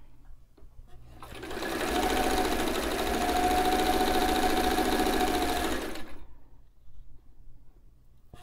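A White 173 sewing machine runs a steady stitching burst of about four seconds, a close, even whirring hum with rapid needle clatter, starting and stopping cleanly against quiet room tone.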